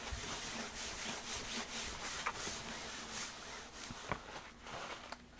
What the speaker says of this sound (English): Let me get a paper towel to wipe off my table.